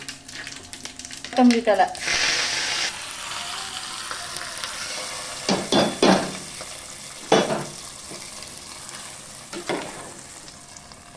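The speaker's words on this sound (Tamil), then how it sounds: "மிளகு, ஜீரகம் போட்டுக்கலாம். பொரியட்டும்." Pepper, cumin and cashews fry in ghee and a little oil for ven pongal, giving a continuous sizzle. Stirring clatters in bursts through it, and a voice speaks briefly.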